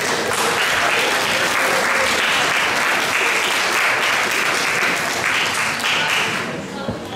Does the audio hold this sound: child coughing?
no